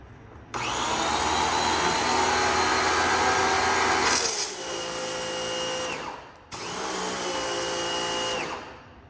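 An inexpensive electric pressure washer from Amazon, on its first start with possible air in the line, gives a steady loud electric motor whine that shifts in pitch partway through, stops briefly, then starts again.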